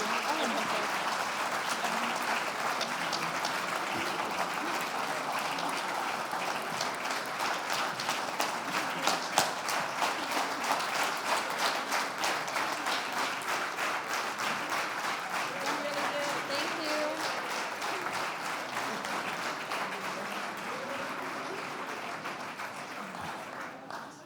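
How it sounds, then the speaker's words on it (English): Sustained audience applause at a general assembly for young talents on stage, a dense, even wash of many hands clapping for the full stretch, with brief speech underneath. "give them the huge round of applause"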